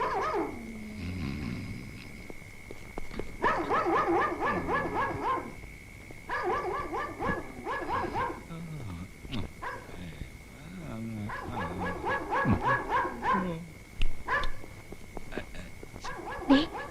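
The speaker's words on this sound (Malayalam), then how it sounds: "എന്താ പട്ടി വല്ലാതെ കുരയ്ക്കുന്നു." A dog barking at night at a house, bursts of sharp barks in repeated clusters with quieter gaps between, fairly close and loud.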